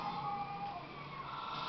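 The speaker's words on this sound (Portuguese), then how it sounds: "Ó, ambulância." An ambulance siren wails steadily in the street of GTA 5, a wavering electronic tone held fairly close and moderately loud over low city noise.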